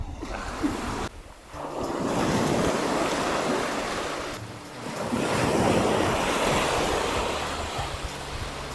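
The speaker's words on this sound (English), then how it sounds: "So I love the way this rock had the waves crashing over it" Waves crash over a rock on Porthor beach in loud, rolling surges of surf with a brief lull between breakers, mixed with gusty wind noise.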